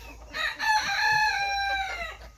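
A rooster crows once, close and loud, a drawn-out harmonic call lasting a couple of seconds.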